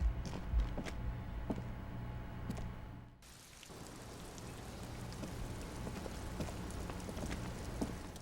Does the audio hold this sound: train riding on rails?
no